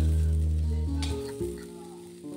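Broccoli florets sizzle in hot oil in a pan, a brief close crackling hiss with a stir partway through.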